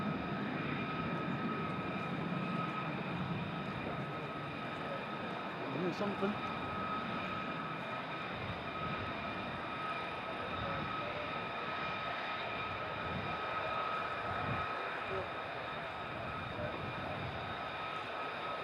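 F-15 fighter jets at RAF Lakenheath rumble faintly in the distance as a low, steady drone with a sustained whine, while someone talks briefly nearby.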